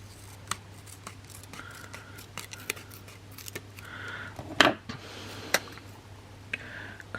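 Scissors snip paper for a Hobonichi Cousin planner, giving a few separate sharp cuts and clicks spread over several seconds against a quiet background hum, close and fairly soft.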